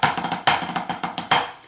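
Snare drum tap drags in triplets, with a quick drag grace stroke before every accented tap; crisp, close, bright strokes in an even, rolling pattern on their own.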